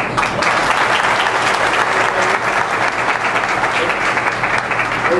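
A large audience applauds steadily and loudly at a public event in Bilaspur, a dense, continuous clatter of clapping throughout.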